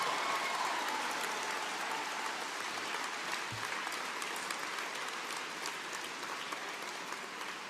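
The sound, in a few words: supporters applauding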